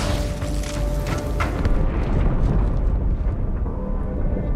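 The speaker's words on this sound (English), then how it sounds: "That explosion came from inside the Athens." Deep, rumbling explosion from a ship in the Halo 2 video game, a sustained loud boom with heavy low-end roar that holds steady for several seconds while higher crackle fades out.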